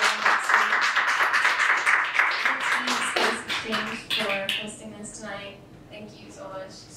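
After a music and storytelling performance at a Rapid City spice and tea shop, a small audience claps, crisp and fairly close for about three seconds before tapering off as a voice begins talking.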